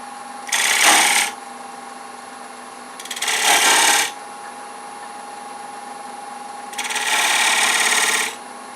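A V scraper cuts into wood spinning on a lathe in three bursts of harsh scraping, each a second or so long, over the steady hum of the running lathe.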